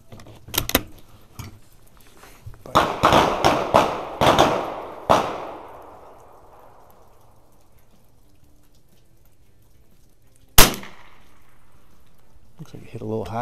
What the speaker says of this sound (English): we'll go ahead and shoot a couple of shots